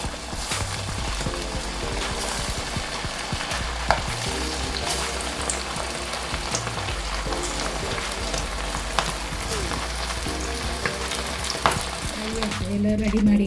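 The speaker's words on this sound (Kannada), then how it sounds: "ಬಿಸಿ ಆದ ತಕ್ಷಣ ಅದರಲ್ಲಿ ಚಿಕನನ್ನು ಫ್ರೈ ಮಾಡುವ." Chicken frying in hot oil gives a steady, close sizzle and crackle with occasional sharper pops and stirring clatter, continuing without speech.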